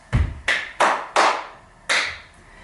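A foot stamp on the floor, then four sharp hand claps in body percussion, each loud, close, and separated by short even gaps, with the final clap arriving after a slightly longer pause.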